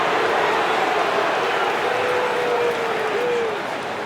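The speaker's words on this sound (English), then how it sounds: "Let's give a big round of applause." Crowd applause and cheering fill an arena in the NBA 2K26 basketball video game during a fourth-quarter timeout, a dense continuous roar of clapping that fades slightly at the end.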